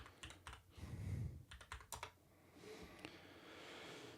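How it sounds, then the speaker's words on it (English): Keys clack on a computer keyboard as an MFA code is typed, a few quick close taps in short bursts and then a quieter pause in a hushed room. "And I write my MFA code."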